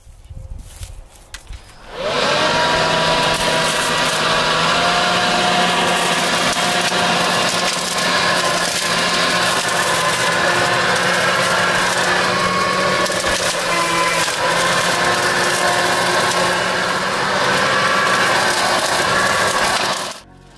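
A Ryobi leaf blower mulcher switches on outdoors and sucks up dirt with a loud, steady high whine and whoosh. Gritty debris rattles through it for about eighteen seconds before it shuts off.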